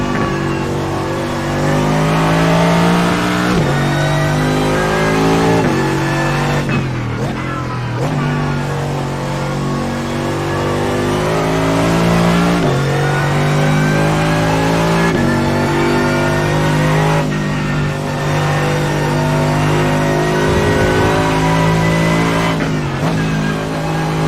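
A Mercedes-AMG GT3 race car's engine drones loudly and steadily on a track lap at Watkins Glen, rising in pitch through the gears with several sharp shift dips and downshifts, close and continuous with no talk.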